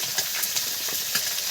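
Vegetables fry in oil left over from frying fish, giving a steady, close hiss of sizzling with faint crackles and pops scattered through it.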